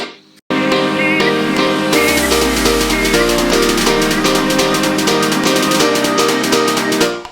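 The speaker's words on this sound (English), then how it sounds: "Got a transitional sweep here from" A transitional sweep effect from a Kashmir sample pack rises out of a dense, loud electronic music mix, a low swooping tone gliding under the full arrangement for several seconds.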